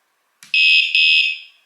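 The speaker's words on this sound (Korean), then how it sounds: "10초 이내에 2차 충격이 가면 이런 소리가 경보음이 30초 동안 울려요." Motorcycle anti-theft alarm on a Harley-Davidson Softail FX, a shock-triggered siren: a loud, piercing electronic tone after a short buzz, holding steady for about a second with a brief break before cutting off, close and alone.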